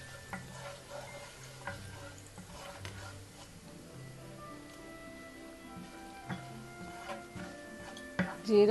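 Cumin seeds sizzle quietly in hot oil for a soybean curry, a soft crackling hiss with scattered ticks and pops, heard close under faint background tones, rising louder at the very end.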